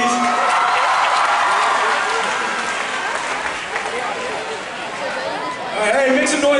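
An audience claps and chatters at a David Archuleta event at Sri KDU, a sustained wash of applause and crowd babble that dips midway and swells again at the end.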